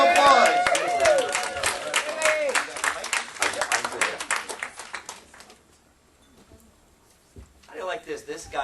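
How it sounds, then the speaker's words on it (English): Applause for a speaker introduced at a training event, crisp crowd clapping for about five seconds that fades into near silence before voices and talk return. "Let's give him a round of applause."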